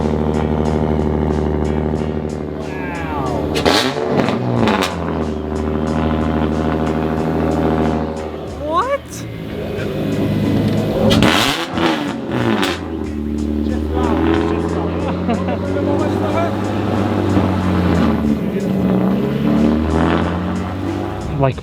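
A Honda car's stock engine revs loudly and close, its droning tone rising and falling over a sustained run while people talk over it.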